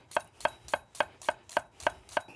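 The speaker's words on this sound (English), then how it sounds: "I need a chopped onion for both salads." A knife chops an onion on a board in eight steady, evenly spaced strikes, crisp and close, with no talking.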